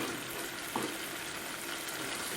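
Oyster mushrooms cooking in red curry over raised heat, giving off a constant faint frying hiss with a small clink partway through.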